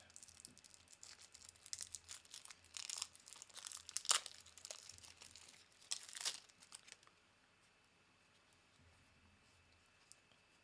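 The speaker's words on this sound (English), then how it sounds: "I'm gonna open up the cards." Plastic wrap crinkles and tears off a deck of Harrow County board game cards, in bursts of crisp rustling and crackling close by, trailing off into quiet.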